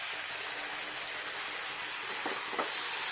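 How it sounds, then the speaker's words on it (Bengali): A curry sautéing (koshano) in a pan gives a continuous hissing sizzle, broken near the end by a couple of brief scraping stirs, and no voice is present. "অনেক কষাতে হবে ভালো করে, কষি কষি কষি কষি"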